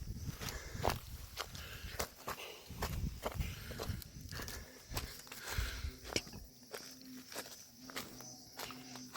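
Irregular footsteps crunching along a path, close and moderately loud, with faint rustling and no talking.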